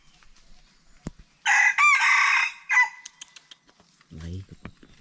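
A rooster crows loudly and close by in one long, wavering call that breaks into a second shorter burst, followed by scattered clicks and a low voice speaking afterward.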